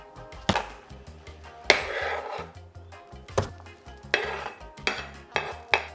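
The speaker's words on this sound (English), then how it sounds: "So we're fine to roughly chop these." A knife roughly chops vegetables for butter chicken on a wooden board, with sharp close thuds at uneven intervals and scraping sweeps in between.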